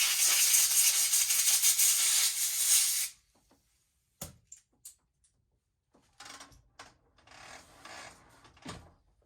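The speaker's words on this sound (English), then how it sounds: "we'll blow this off with some compressed air" Compressed air blasts onto a motorcycle exhaust pipe part for a Derbi scooter, a loud continuous hiss for about three seconds that cuts off abruptly, followed by scattered light clicks and handling knocks.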